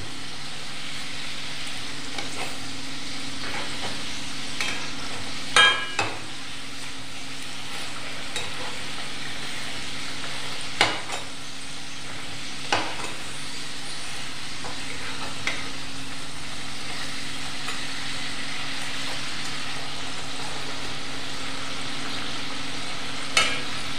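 Stuffed roll filling sizzles steadily in a frying pan for the whole stretch, with a few sharp clicks and scrapes where it is turned over, and no one talks.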